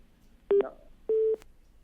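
A dropped phone call gives two short busy-tone beeps, the first brief and the second longer, clear and alone over a quiet background.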